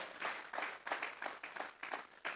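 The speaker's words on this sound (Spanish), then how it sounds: "Vamos a regalarle ofrenda de palmas al Dios de la gloria." Church congregation claps in a steady rhythm, about seven distinct sharp bursts of group clapping at an even pace, moderately loud with no speech over it.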